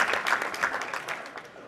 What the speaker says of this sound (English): I think you could clap again for him